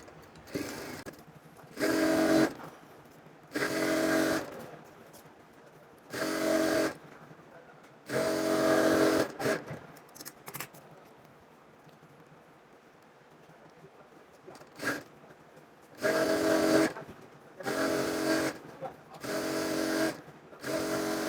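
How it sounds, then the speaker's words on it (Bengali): Sewing machine stitching the side seams of a women's six-panel petticoat, running in repeated short bursts of whirring with quiet gaps between, a longer pause in the middle before several more runs. "রাখার পর সাইড দিয়ে সেলাই করে নেবো"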